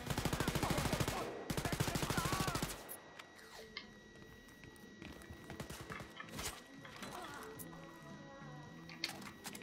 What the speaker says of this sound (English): It shoots fast. It's like an assault rifle.